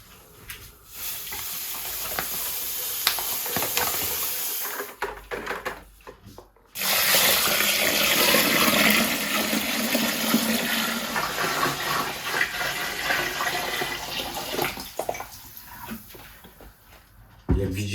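Water and sugar are stirred and poured together in a fermentation bucket to make sugar syrup for rice wine, giving sloshing, splashing and scraping with short pauses, a louder pouring rush in the middle and quieter swishing toward the end.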